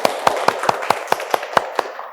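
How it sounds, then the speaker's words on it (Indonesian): Classroom applause for a student group: about ten sharp, evenly spaced claps in a quick steady rhythm, close and fairly loud, tailing off at the end. "Tepuk tangan untuk kelompok 1"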